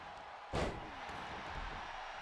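A wrestler crashes onto the mat at a wrestling event, making one sharp, heavy thud that stands out briefly over a steady hum of arena noise.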